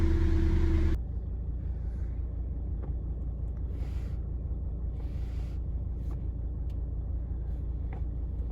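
Mercedes car on a road test, heard from inside: a brief loud tone cuts off, then a steady low road rumble and engine drone carry on at an even level with a few faint clicks and hisses.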